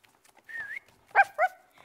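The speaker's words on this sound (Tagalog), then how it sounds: "Pagpito ang ginagawa ko para turuan ng aso kong si Molly" A dog answers whistling with a short, high whine followed by two quick yips, close and clear in an otherwise quiet space.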